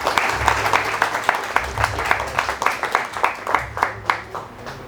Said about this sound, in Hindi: मैं शुरू करूँ, आप अगर तालियां बजा दें तो।